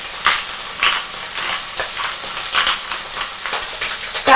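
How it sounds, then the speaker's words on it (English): Wagyu or Angus steak searing in a hot pan, a continuous hiss with irregular bright crackles and pops as surface moisture evaporates, close and fairly loud. "That crackle that you hear, that's all of the moisture evaporating from the surface of your steak."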